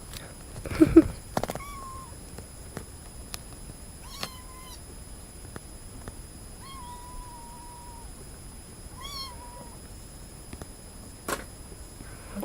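A cat on a porch lets out several drawn-out meows, spaced a few seconds apart, with a two-note shape resembling the word "mama", clear and fairly close over a quiet outdoor background.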